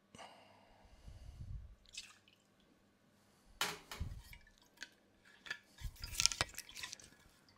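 Tennessee rye whiskey trickles into a cocktail glass in short, quiet pours with small splashes and drips, followed by light clinks of bar tools.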